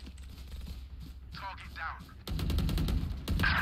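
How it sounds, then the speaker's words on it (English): Vandal rifle fire in Valorant: after a stretch of quieter game sounds and some brief voice activity, a loud, rapid burst of automatic shots starts and keeps going to the end, close and punchy. "Oh crap, I shot a friendly."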